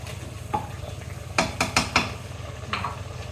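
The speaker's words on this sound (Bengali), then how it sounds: "তাই আমি একটু কষায় নিতেছি।" Beef being sautéed in a pressure cooker pot, a steady low sizzle under a quick run of four or five sharp spoon-against-metal stirring clinks, close and moderately loud.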